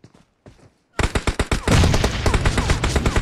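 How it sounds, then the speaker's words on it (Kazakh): Close, loud automatic gunfire in PUBG Mobile, starting with a few faint shots, then a sudden dense burst of rapid rounds that keeps hammering steadily to the end. "Жақын жерден атты, жанынан атты"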